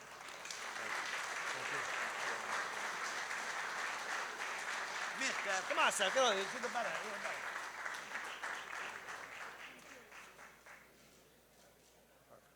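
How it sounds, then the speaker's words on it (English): Audience applause for IBEW Local 3's Chris Erickson at a veterans foundation event, a sustained, dense clapping crowd with shouts and cheers swelling midway, then tapering off toward the end as a voice speaks. "Please give you a round of applause to Chris Erickson."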